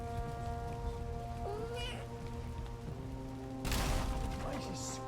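A cat gives one short, rising meow over a constant hum and background clutter, followed by a brief burst of noise.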